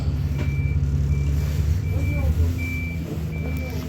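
A Stagecoach East Midlands bus leaving the King's Lynn bus station gives steady, evenly spaced reversing beeps over the low rumble of its idling engine, with a faint hiss of air brakes in the background.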